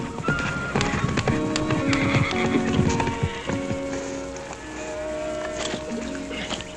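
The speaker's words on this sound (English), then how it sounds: "He giving you any trouble, horse?" Horse neighing and hooves clip-clopping in an old Western television scene, with overlapping whinnies and steady hoof clatter sounding close and fairly loud throughout, joined by background music.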